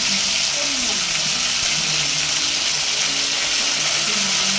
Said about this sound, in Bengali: আলুটা ভাজা হয়ে গেলে আদা জিরে বাটা দিয়ে দেওয়া হচ্ছে